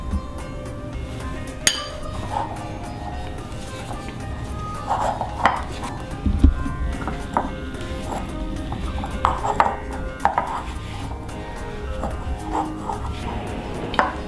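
A spoon beats flour and baking powder into butter in a bowl for coconut nankhatai biscuits, with repeated soft knocks and clinks against the bowl in an irregular rhythm, close and moderately quiet.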